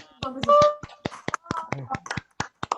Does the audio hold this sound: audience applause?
yes